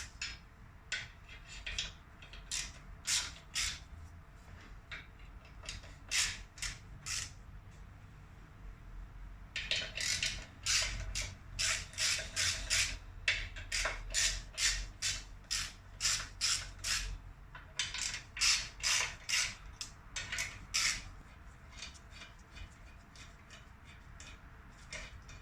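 Clutch being removed from a Fiat Panda engine during an engine replacement: close, quick bursts of sharp metallic clicking, like a ratchet being worked, coming in irregular groups with short pauses over a faint background.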